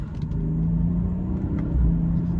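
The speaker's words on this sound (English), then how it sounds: "the upshifts are very immediate" A BMW 540i xDrive accelerating hard, its engine a steady close rumble rising through quick, immediate gear upshifts.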